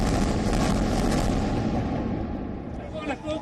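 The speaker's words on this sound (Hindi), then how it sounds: "ये धमाका" Dense, rumbling blasts from bombing and rocket attacks fill the scene with roaring noise, loud and continuous, then ease slightly before a final thud.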